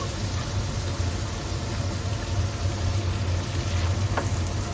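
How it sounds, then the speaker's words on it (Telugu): Chopped onions fry in melted butter in a pan for butter garlic mushrooms, giving a steady, soft, continuous sizzle with no talking. "ఇప్పుడు ఇలా మెల్ట్ అయిపోయిన తర్వాత చాప్ చేసుకున్న ఆనియన్స్ వేసేసుకుంది"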